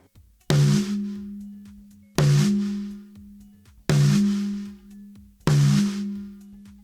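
Snare drum fitted with a reverse dot head at medium tuning, struck four times at an even pace, each hit sharp and loud with a short ringing tone that decays before the next.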